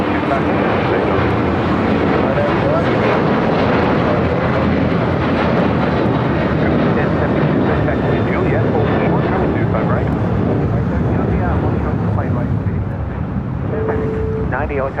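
An American Airlines Boeing 737-800 jet at LAX gives a loud, steady roar that fills the whole stretch without letting up.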